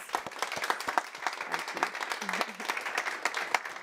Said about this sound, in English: So if I may ask for a round of applause.